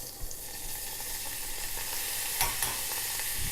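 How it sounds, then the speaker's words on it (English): Peas and carrots sizzle and hiss steadily in melted butter in a hot pot, with a few clinks and stirring scrapes, close and continuous with no talking. "now I'm just going to add in the peas and carrots to it."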